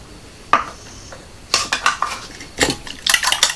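Egg being beaten with almond milk in a bowl for a blooming onion batter: a single clink, then bursts of quick whisking clatter and utensil scraping against the bowl, close and fairly loud.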